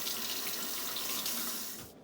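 Water runs from a kitchen faucet over ears of corn still in the husk, soaking them: a steady splashing rush that cuts off at the end.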